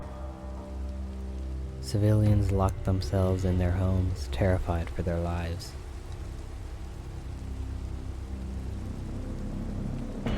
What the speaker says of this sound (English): The clouds turned gray and the rain poured down on the city.